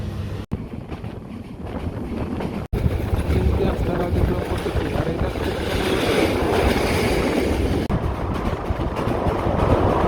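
The Cox's Bazar Express passenger train, running from Cox's Bazar to Dhaka, gives a steady rumbling clatter with heavy wind buffeting, recorded up close, with brief dropouts and talking over it.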